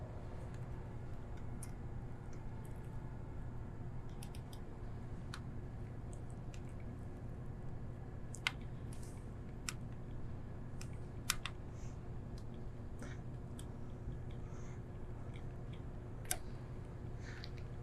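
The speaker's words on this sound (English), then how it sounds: "we're going to take our torque wrench. I'm going to start with the shoulder bolt" Sharp, sparse ratcheting clicks from a torque wrench tightening a shoulder bolt during Y-axis pinion gear replacement on a CNC saw, sounding close over a steady low machine-room hum, with irregular gaps between clicks.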